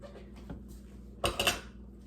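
Banana bread batter with chocolate chips being divided between two loaf pans: a brief cluster of metal pan clatter and scraping near the middle, otherwise quiet.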